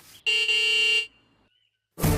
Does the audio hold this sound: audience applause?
no